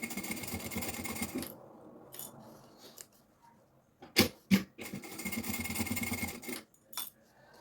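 A sewing machine stitches a preschool backpack with a 2.8 stitch width, running in two long steady bursts with a pause and a couple of sharp clunks between.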